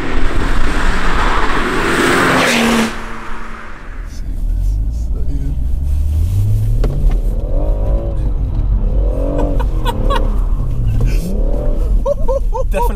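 A Motech-tuned BMW M140i revs hard while sliding, the engine roaring loud and close then rising and falling in repeated throttle blips, with voices talking over it.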